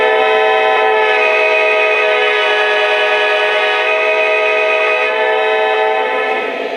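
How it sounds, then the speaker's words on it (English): A loud, sustained multi-tone model train horn chord blares steadily for several seconds without a break, rich and harmonic, with no talking. "the best horn ever put on a model train"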